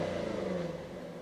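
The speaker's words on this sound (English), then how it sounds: "Ooh, lovely V8 grunt. Okay, can we rev it in comfort mode first?" Audi RS5 B8.5 with its V8 engine revving in comfort mode: a loud, sustained engine drone whose pitch sags slightly and eases off toward the end.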